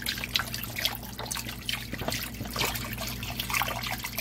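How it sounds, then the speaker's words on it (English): Miso ginger broth poured from a container into a bowl of vermicelli noodles, a continuous close trickling and splashing of liquid, steady and moderately loud throughout. "we're going to add this whole container of miso ginger broth to this."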